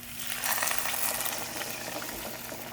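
Water pours into a pot of sweated garlic, onion and scallion, a steady hissing, bubbling rush that stays fairly loud and even for the whole stretch, with no talking over it.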